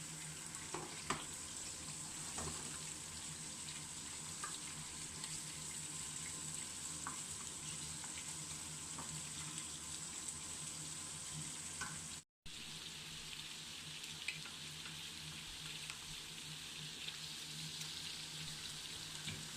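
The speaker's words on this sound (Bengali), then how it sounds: "এখন অনিয়ন ফ্রাই করা হচ্ছে।" Onions fry in a pan for a nasi goreng, giving a steady, dense sizzle and crackle that runs unbroken and close, with only a brief dropout partway through.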